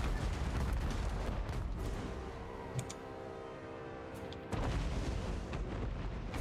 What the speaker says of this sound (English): Oh, those explosions are pretty good